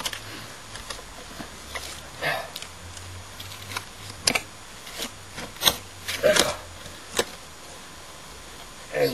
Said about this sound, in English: Using a trowel.